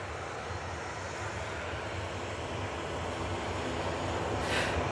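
A TUI airliner departing Manchester Airport for Heraklion gives off a steady, broad jet-engine roar that holds throughout and swells slightly toward the end, heard from a distance with no talking.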